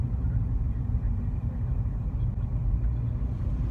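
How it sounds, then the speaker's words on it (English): Recorded from inside a moving car approaching a town square, a steady low engine and road rumble fills the cabin with no one talking. "well, you got that, we're in a car."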